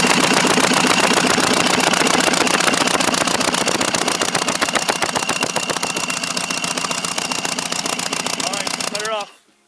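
A 1999 120 hp Mercury Force outboard engine with the cylinder head removed is cranked by the starter, making a loud, fast, even rhythmic churning that runs steadily before stopping abruptly.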